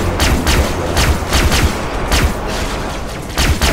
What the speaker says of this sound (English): Shooting you in the face!